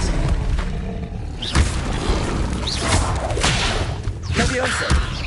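A wand spell cast in the video game Hogwarts Legacy, heard as dense, layered combat effects with whooshing swishes and booming impacts in quick succession, fairly loud throughout.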